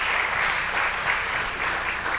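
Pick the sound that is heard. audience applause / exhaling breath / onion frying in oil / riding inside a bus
audience applause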